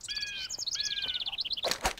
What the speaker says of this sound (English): Now this is the western bluebird